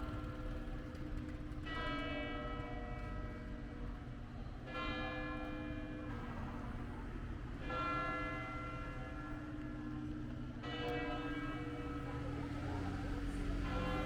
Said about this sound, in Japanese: 教会の鐘が鳴り始めました。